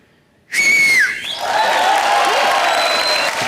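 A person whistles a musical note on a comedy TV show stage: a clear sustained tone that bends and slides downward, then gives way to an audience roar of cheering and applause that continues to the end.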